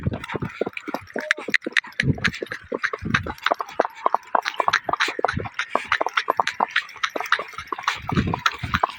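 A mare's hooves clip-clop steadily on a village road, a quick, even rhythm of close, sharp knocks running throughout with a faint trace of voices in the background.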